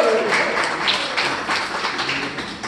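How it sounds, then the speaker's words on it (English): Loud applause from a crowd at a Christmas dance event, dense steady clapping filling the whole stretch, with some cheering voices mixed in. "let's give them a big round of applause when they walk in the door"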